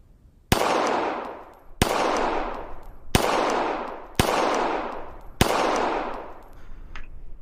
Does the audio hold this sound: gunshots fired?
yes